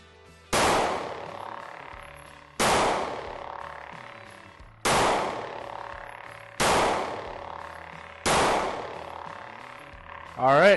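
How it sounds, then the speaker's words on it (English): Five evenly spaced pistol shots are fired at a target, each a sharp loud crack with a ringing decay, about two seconds apart, followed by a brief clatter at the end. "we are going to shoot 5 shots at center mass on our target"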